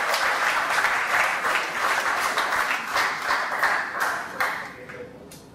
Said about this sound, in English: One more round of applause for SoFly.